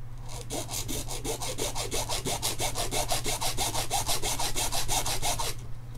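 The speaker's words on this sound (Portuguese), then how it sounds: "Vou ter que serrar aqui." A hand saw cuts into the housing of an activated carbon water filter, producing steady, rhythmic rasping back-and-forth strokes over a constant low hum, close and continuous.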